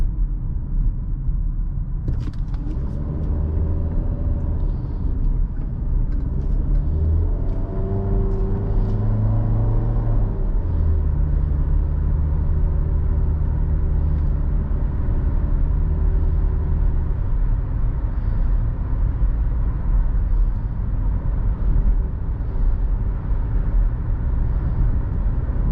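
A 2018 Nissan Rogue SL drives along with a constant, close interior engine and road rumble, the engine tone rising and shifting through gentle acceleration, with a few faint rattles early on.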